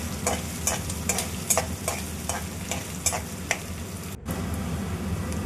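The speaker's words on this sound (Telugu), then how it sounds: "సన్నగా తరిగినవి, ఆరోగ్యానికి ఎంతో హెల్తీ అయిన కరివేపాకు ఆకులు కూడా వేసుకొని బాగా రోస్ట్ చేసుకోవాలి" Curry leaves sizzle and crackle in a hot pan with finely chopped onions, stirred in regular scraping strokes, close and fairly loud, with a brief cut near the end.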